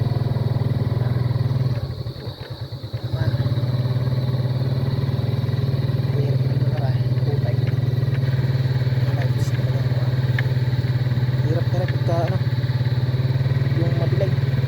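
A motorcycle rides along a slippery, muddy road at night with a dim headlight. Its engine drones steadily and close up, dips briefly early on, and is joined by faint rattles and occasional speech.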